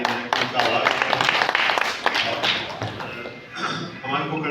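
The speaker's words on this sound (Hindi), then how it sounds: "जोर ताली बजाकर उनका आभार करें।" A gathering audience claps to thank the women being honoured at a journalism book launch, a dense burst of crowd applause lasting a few seconds that tapers off, with voices mixed in.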